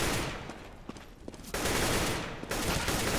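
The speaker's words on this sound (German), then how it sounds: "Schöner Schuss gegen Rocke" Rapid gunfire in Counter-Strike on the de_train map during a tournament match, loud bursts of close automatic fire, a dip into scattered shots, then sustained firing resuming.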